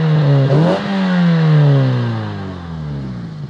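A car with a repaired exhaust revs hard in one full throttle blip, its engine note climbing quickly and then falling away in a long, loud, close descending drone.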